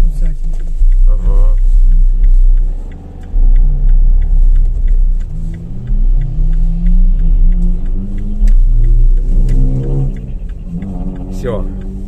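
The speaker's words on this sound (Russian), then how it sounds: "О, как долбит у него. Буфера." Car stereo subwoofer bass thumps heavily from a passing car on an autumn city street, a deep steady booming pulse that dominates throughout, with someone talking over it inside another vehicle.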